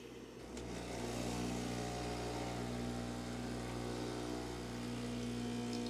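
Breville Bambino Plus espresso machine pulling a shot, its pump starting with a click and then droning steadily and loudly up close, a continuous buzzing hum with no talking.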